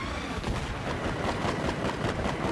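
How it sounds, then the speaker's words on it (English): Missile strikes on helicopters during a two-versus-two helicopter match in a video game, heard as a continuous barrage of booming impacts and gunfire-like bursts, dense and steady throughout. "Missile coming in."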